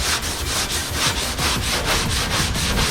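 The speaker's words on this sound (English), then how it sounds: "I'm getting about tired of sanding today." Steady back-and-forth hand sanding on a car body panel of a Z28, a rhythmic scraping rub repeating about every quarter second, close and continuous with no talking.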